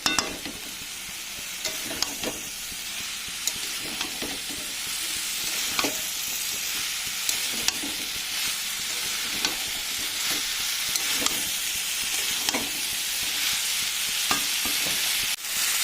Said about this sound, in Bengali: এবার আমি দিয়ে দিচ্ছি ইঁচড়গুলো ইঁচড় আলু একসাথে দিয়ে দেবো মশলার সাথে এবার আমি সব কিছু একসাথে মিশিয়ে নেব